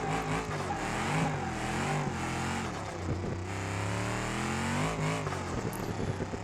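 A twin-turbo Bolide supercar engine revs hard in a BeamNG.Drive rally run, with the pitch climbing and falling in loud, close sweeps. Brief tire noise shows through, and no one speaks.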